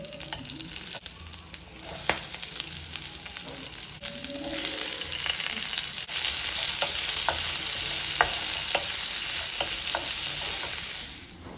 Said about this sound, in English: I'm adding some spices, butter and bay leaf and frying it all together.